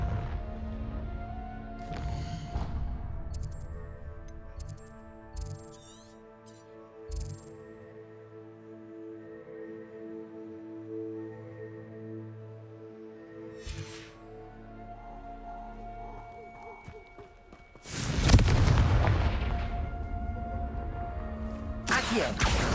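In Hogwarts Legacy, the Confringo blasting spell explodes as a sudden loud, rumbling burst near the end, set against soft game music and small spell and effect sounds.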